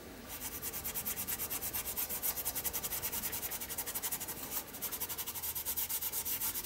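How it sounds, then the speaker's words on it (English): Colour rubbed onto a paper page with a cloth-wrapped finger, a close, steady rhythmic scrubbing of fabric on paper in quick repeated strokes, with a short pause midway and no talk. "wrap it again around the finger. And then just start rubbing."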